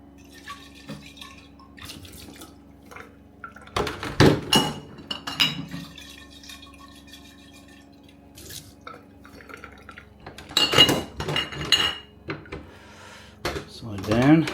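Water sloshes and drains from homebrew beer bottles being rinsed, with scattered drips, glassy clinks and short bursts of splashing against a quiet room hum, several louder rinsing episodes spaced apart.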